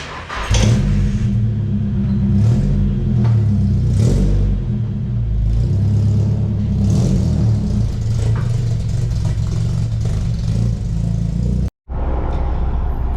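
A car engine rumbles loudly and steadily, revving and pulling away to go racing, with a sharp brief cutout near the end before the engine noise resumes.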